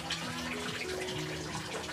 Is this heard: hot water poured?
yes